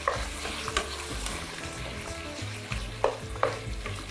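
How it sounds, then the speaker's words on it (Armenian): Lamb pieces sizzle and crackle in a hot pan up close, a steady frying hiss with a few sharper pops and stirring clicks. "Տապակում ենք այնքան, որ մսակտորները ոսկեզօծ երանգ ստանան։"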